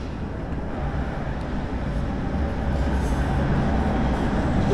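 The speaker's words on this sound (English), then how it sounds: "Look at the old school trams, they still go." Old trams run through a Prague street with a steady low rumble and rolling rail noise, a continuous moderately loud drone against city background.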